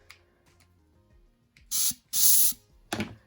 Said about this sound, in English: you can reuse it or refurbish it by using an air compressor